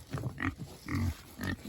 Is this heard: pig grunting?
yes